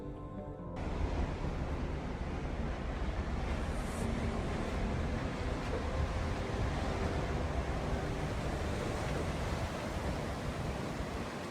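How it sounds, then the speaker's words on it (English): Steady broadband roar of high wind and heavy waves at sea aboard a cruise ship on a transpacific crossing, continuous and fairly loud throughout with no talk. "more high winds and waves"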